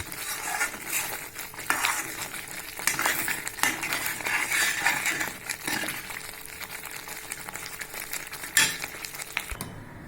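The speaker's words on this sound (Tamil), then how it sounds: "இந்த மாதிரி நல்லா கிண்டி வச்சுங்க" A spoon stirs javvarisi (sago) upma in a pan, giving repeated close metallic scrapes and clinks at an uneven rhythm, with no voices.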